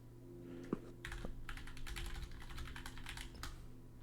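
Rapid steady typing on a computer keyboard, a dense run of soft clicks close by after a brief bump, with a faint hum underneath and no talking.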